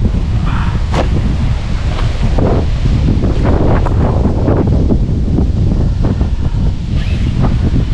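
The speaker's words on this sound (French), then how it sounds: "beaucoup de vent." Strong wind roars continuously across the microphone, loud and gusty, with occasional rustling and thumps mixed in.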